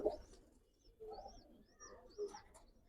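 Silver giribaz pigeons cooing softly nearby, a few low throaty coos with faint chirps, quiet and alone without talk.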